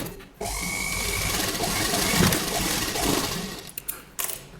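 A sewing machine stitches kurta neckline fabric in a steady, close, whirring run of rapid needle clatter lasting a few seconds, then stops with a few small clicks, and there is no talk.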